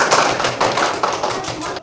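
A class of students clapping their hands together after a lesson on human digestion, steady dense patter of many hands lasting throughout, fairly close and loud with faint voices mixed in.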